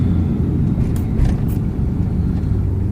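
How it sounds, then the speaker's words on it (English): A 1959 Cadillac Sedan DeVille engine idles smoothly with a low, steady rumble, with a couple of brief faint hissy bursts over it. "I just could not believe how good the car is running."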